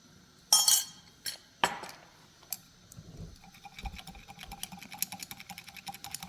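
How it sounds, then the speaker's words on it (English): Table salt being added to a glass of saturated solution, with a few sharp clinks against the glass followed by a quick, continuous light ticking of stirring, faint and close. "let's see what happens when I add some more table salt to this saturated solution"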